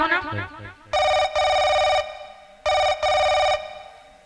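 An electronic telephone ring in two bursts, each a pair of loud trilling pulses, with brief murmured talk just before.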